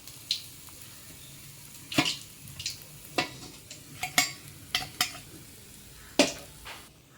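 Fish frying in a pan on medium heat and being turned over: a soft sizzle underneath sharp, scattered clinks and scrapes of a utensil against the pan, close by and without talk.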